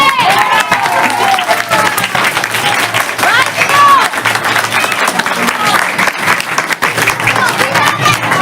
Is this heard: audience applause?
yes